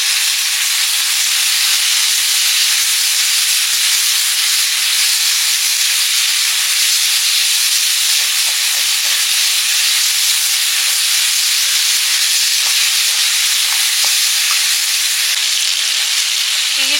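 Chopped capsicum frying in a pan, a loud, dense, continuous sizzle and hiss that holds steady throughout with faint stirring scrapes underneath.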